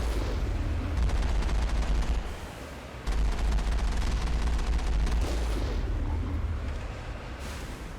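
Sustained rapid gunfire from a turret in the sci-fi video game Mass Effect, dense and loud, with a brief dip near three seconds before the barrage resumes.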